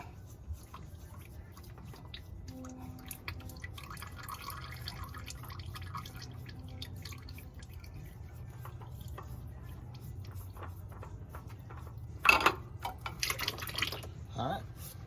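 Engine oil from a Nissan Titan trickles and drips steadily into a drain pan, a soft continuous liquid patter with a few louder splashes near the end, while someone talks over it.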